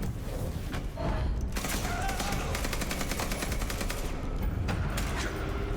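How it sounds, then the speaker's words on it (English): Sustained volleys of gunfire in a Vampire: The Masquerade - Bloodlines 2 combat scene, loud overlapping bursts of automatic shots with a few heavier thumps mixed in, going nonstop for several seconds with no talking. "Hopefully that gunfire leads people up here."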